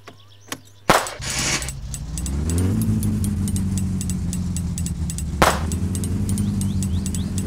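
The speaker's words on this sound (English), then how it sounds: "It's in neutral, so just rev it a little bit, help get the motor up to" Muscle car engine in My Summer Car cranking with a couple of clicks, then catching and settling into a loud steady idle in neutral, with a brief rev spike partway through.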